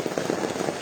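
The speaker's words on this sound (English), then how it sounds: "Rain dey fall." Steady rain falls on a surface nearby, a dense, even patter that continues without a break and with no voices over it.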